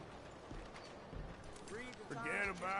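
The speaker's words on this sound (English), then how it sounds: "That's a nice horse." Horse hooves clip-clop at a walking pace in the Red Dead Redemption 2 western video game, a few soft thuds sitting low under in-game voices and ambient noise.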